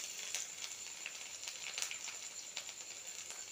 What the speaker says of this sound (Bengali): আদাটা একটু ভাজা হয়ে গেলে দিয়ে দিলাম রসুনটা।